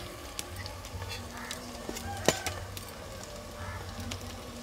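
Green chillies and curry leaves fry in hot oil for a fish curry, giving a steady soft sizzle with scattered small crackles and a sharp pop near the middle, while a low background hum runs throughout.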